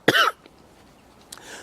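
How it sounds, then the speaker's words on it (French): A single sharp, loud cough from a person allergic to hay and pollen, heard up close outdoors near trees, followed by quiet and a faint short rustle. "moi je suis allergique un peu à tout ce qui est le foin, les pollens et tout ça, donc ça fait tousser"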